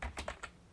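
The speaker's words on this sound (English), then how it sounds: "so I just type it in QWERTY" Three or four quick keystrokes on a QWERTY computer keyboard, faint, close and clicky, then quiet.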